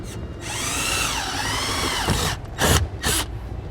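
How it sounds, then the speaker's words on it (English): A power drill whines steadily while boring into a 2013 Ford truck's frame area during an air suspension compressor installation, its pitch dipping and rising as it bores, then stops and gives two short final bursts. "go ahead and drill it out"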